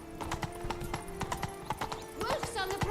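Roach, the horse in The Witcher 3, gallops with steady, rapid clip-clop hoofbeats through a game scene and ends with a whinny, while someone talks over the action.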